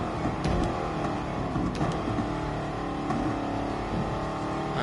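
A car engine revs in a PS4 racing game, a steady mid-level drone with light throttle swells and no talking over it.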